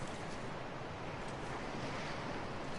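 Steady wind roars over ocean surf on a beach in the survival video game The Long Dark, a loud, continuous broadband rush with no speech.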